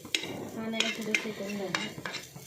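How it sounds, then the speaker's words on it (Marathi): Onion and grated coconut stirred and roasted together in a pan, a spatula scraping and knocking against the metal in short strokes with a faint sizzle, close but soft. "सगळं मिक्स भाजते आता"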